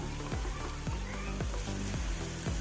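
Prawns fry Kerala style in a hot pan, a steady dense sizzle with a faint repeating scrape of stirring, close and continuous with no talk.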